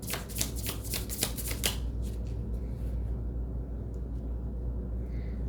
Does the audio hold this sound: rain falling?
no